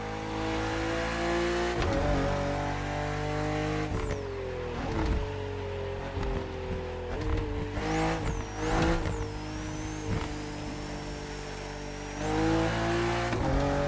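A BMW CSL races in The Crew Motorfest video game, its engine roaring continuously at high revs, with gear shifts and pitch climbs and dips over steady road noise.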